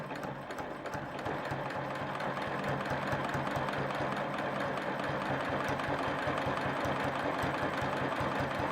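A sewing machine runs steadily, stitching lines across a whole-cloth quilt, its rapid needle rhythm holding a constant mechanical hum from start to finish with no talking.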